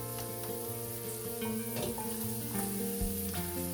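A steady sizzle and hiss of boiling water poured into a hot pan for pasta and peas, with crackling frying underneath and faint stirring clinks throughout.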